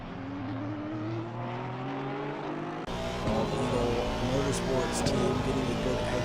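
A Porsche race car accelerating out of a hairpin at Zolder circuit during a pro-am race, its engine note climbing in steady rising sweeps and growing louder, with a commentator talking over it.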